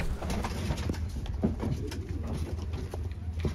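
English carrier pigeons in Old Delhi coo in soft, repeated throaty calls close by, with a low steady hum and light patter in the background.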